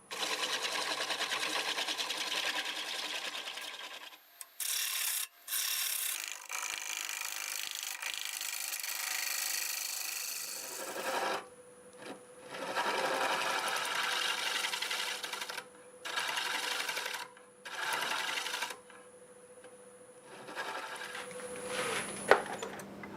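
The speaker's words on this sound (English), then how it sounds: "But the scraper works pretty good at a lower RPM." A wood lathe turning a carved gorilla piece at low speed while a scraper bites into the wood, giving bursts of rough, rasping scraping that start and stop with short pauses between passes.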